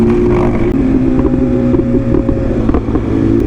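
A Lamborghini Aventador SVJ Roadster engine drones loudly nearby with a steady low growl that rises and falls through downshifts, with some wind buffeting over the microphone.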